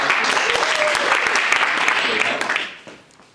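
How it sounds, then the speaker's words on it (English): Stand-up comedy audience at UNC clapping, a dense, loud burst of applause that holds steady and then fades out near the end. "Clap all, clap."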